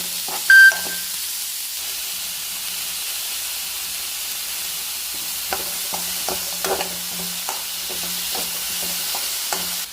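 Sliced onions with salt are sautéed in a pan for a cauliflower masala, giving a steady close sizzle broken by repeated scraping stirs.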